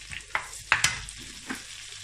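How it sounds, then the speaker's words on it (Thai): Shell-on shrimp stir-fried in a pan, a steady sizzle broken by several sharp clacks and scrapes of a utensil against the metal, close and moderately loud with no voices. "เดี๋ยวผัดให้มันหอมก่อนจ้ะ"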